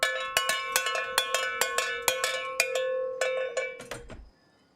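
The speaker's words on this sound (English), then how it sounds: "Just for that, you get the cowbell." A cowbell is struck about fifteen times in a quick, slightly uneven rhythm, each clanking metallic hit ringing close and loud before the last one fades out.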